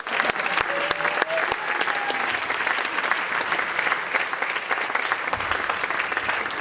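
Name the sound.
applause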